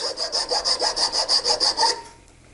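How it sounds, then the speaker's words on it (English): A file cuts a relief notch into a wooden pyramid-top square plug, giving about ten quick, even back-and-forth rasping strokes up close before stopping. "Next, I'll file a relief notch right at the intersection of those 2"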